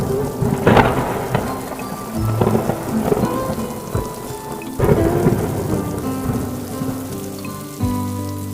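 Heavy rain pours steadily while loud thunder cracks and rumbles close by, with two big booming claps standing out above the downpour.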